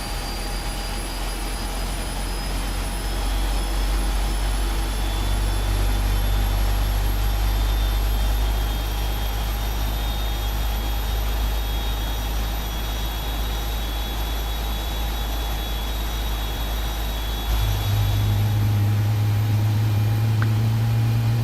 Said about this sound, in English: turn the auto start on, turn the fuel selector to on, and listen to those beautiful startup sounds